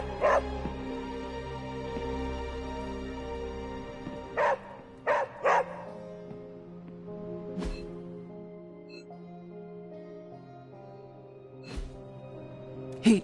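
Dog barking in the video game Marvel's Midnight Suns, a few short yips and barks with soft whimpers, spread over a quiet background of faint game ambience and music.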